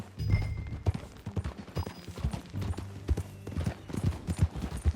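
Horse hooves clip-clopping at a steady riding pace in the Red Dead Redemption 2 video game, a rhythmic series of fairly close thuds with faint background sounds.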